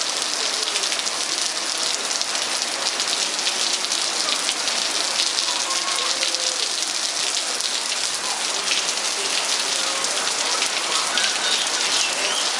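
Steady rain falling outdoors onto standing water, a dense even hiss of drops and patter lasting throughout, close and fairly loud with no voices.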